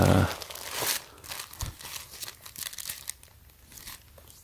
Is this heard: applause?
no